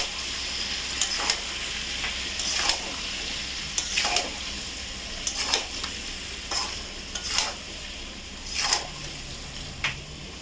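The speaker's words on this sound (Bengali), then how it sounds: "লঙ্কার গুঁড়ো দিয়ে দিলাম, নাড়াচাড়া করবো" Mango pickle with chili powder stirred in a pan: a constant frying sizzle broken by regular scraping strokes of a spoon roughly every second or two, close and clear, with no voices.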